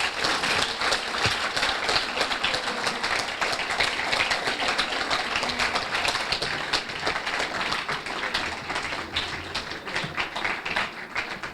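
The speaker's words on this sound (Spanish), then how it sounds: "Por favor, brindémosle un gran aplauso a nuestro Eduardo Díaz." Steady, dense applause from an audience welcoming Eduardo Díaz at a presentation event in the Valparaíso region, a continuous close wash of many hands clapping throughout with no speech.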